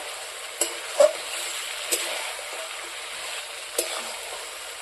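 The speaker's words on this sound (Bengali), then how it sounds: "টমেটো আমি মাংসর সাথে ভালোভাবে কষিয়ে নেব।" Tomatoes cooking down with duck meat in a pan, a steady close sizzle with a few sharp scrapes of a spoon stirring against the metal, and no voices.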